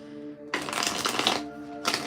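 Tarot cards are shuffled close up in a dense riffling burst lasting about a second, then a brief pause and a second short riffle.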